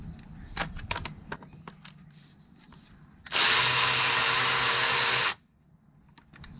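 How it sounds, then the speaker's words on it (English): An electric ratchet spins off a 10mm bolt on a 2014 Acadia 3.6L engine during timing chain work, a single loud whirring burst of about two seconds after light clicks and handling noise. "I'm going to come back with my electric ratchet."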